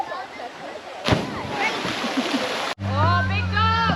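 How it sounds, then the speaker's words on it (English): Water splashes up around a rope swing at an off-grid property, a burst of spray and churning near the microphone, with voices talking and calling out over it. "Why do they always splash me?"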